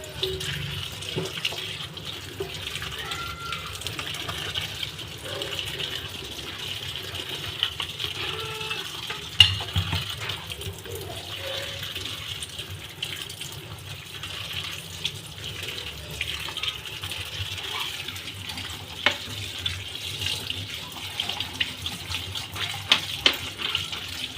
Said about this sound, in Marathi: याला मस्त मी आता धुवून घेते स्वच्छ धुवून घ्यायच्या आहे